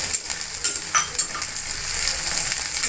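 Crushed garlic, ginger and green chili frying in oil in a pan, a bright continuous sizzle with a few sharp spoon-stirring clicks and scrapes, close and loud with no talking.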